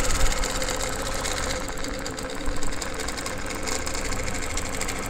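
A quilting machine stitches rows of free-motion quilting guided by a Wave It One wavy ruler, giving a steady, close, continuous mechanical whir and rapid needle chatter throughout with no talking.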